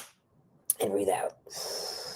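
A person breathes during a guided breathing exercise: a sharp intake, then a long, steady, airy exhale, close and fairly quiet.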